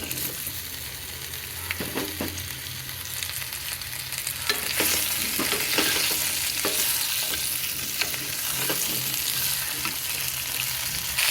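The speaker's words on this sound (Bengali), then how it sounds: "কুলটা দিয়ে দিলাম।" Jujube berries sizzle and crackle in a hot pan while being stirred for a pickle, with a steady frying hiss broken by occasional scraping and knocking of the spoon; no talking.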